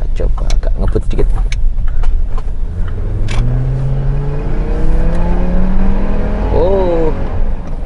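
Hummer accelerating quickly, with a rising engine note climbing in pitch over several seconds, heard from inside the cabin, with someone talking over it at times.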